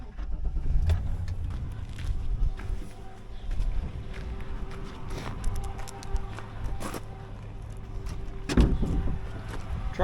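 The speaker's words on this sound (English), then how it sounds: "Truck's making a weird noise." A GMC pickup truck pulls a seed tender on a Central Illinois farm while making an odd noise: a continuous close rumble with faint whining tones and scattered knocks and rattles.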